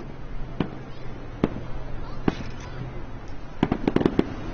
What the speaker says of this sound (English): Fantastic fireworks kept the parking lot full well into the night.